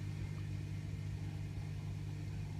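Indesit My Time dishwasher running an eco wash cycle, a steady low hum and rumble with a faint whooshing of water, quiet and continuous throughout.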